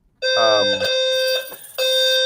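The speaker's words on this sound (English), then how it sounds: "I suspect he's having a fire alarm testing." During a fire alarm test, loud electronic alarm tones sound close by in a sustained high beeping pattern that breaks briefly and then resumes, with no talking.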